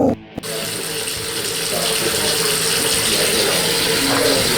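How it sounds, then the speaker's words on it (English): Water runs steadily from a faucet during a plumber's leak test, a loud continuous gushing hiss that starts after a brief clunk and holds evenly throughout. "Yeah, just got the water on, doing a final test."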